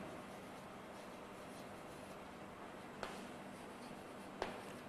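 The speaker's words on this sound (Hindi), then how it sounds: "मैं यहां पर लिखता हूं" Chalk or marker writing on a board during a chemistry lecture, a faint continuous scratchy scrawl under room noise, with two sharp taps as the tip strikes the surface.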